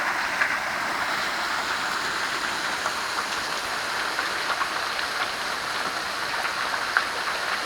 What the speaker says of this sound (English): Here we are at Big Rock Falls. Really pretty waterfall right here.